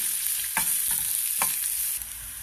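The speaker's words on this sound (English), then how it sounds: "now let's add onions and fry them" Onions frying in a pan for Andhra-style drumstick-leaf dal give off a steady, close sizzle, broken by several soft scraping stirs of a spoon.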